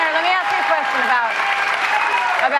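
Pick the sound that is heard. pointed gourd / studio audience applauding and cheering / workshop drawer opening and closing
studio audience applauding and cheering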